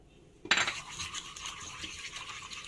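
A spoon clinks and scrapes against a glass while cinnamon is stirred into a cold drink, a sharp tap followed by a steady light swirling, close and fairly quiet.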